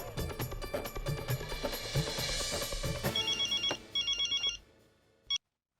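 A telephone rings in a Hindi TV sitcom household scene, with electronic ring bursts in a quick repeating pattern over background music, then stopping abruptly.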